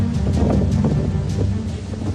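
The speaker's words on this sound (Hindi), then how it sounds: "आंधी तूफान के आगे विशालकाय पेड़ भी टिक नहीं पाया।" Cyclone Biparjoy's storm winds batter the coast near Dwarka, a loud continuous roar of wind buffeting the microphone with rumbling low gusts and no voices.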